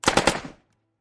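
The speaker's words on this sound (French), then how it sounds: "Puis il y eut de nouvelles explosions." A rapid burst of gunfire, about five sharp shots in quick succession, loud and close, cutting off abruptly into silence.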